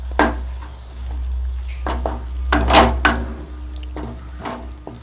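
A spoon stirring chilli idli sauce in a cooking pan, with several sharp scraping clinks at irregular intervals over a steady low hum, close and fairly loud.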